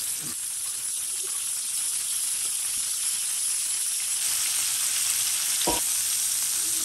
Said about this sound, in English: Don't crowd your meat. Don't boil the meat. Get a good sear on the meat.